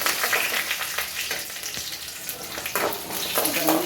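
Urad dal and chana dal fry in hot oil with dried red chillies for drumstick leaf poriyal, producing a loud, continuous close sizzle with occasional stirring crackles.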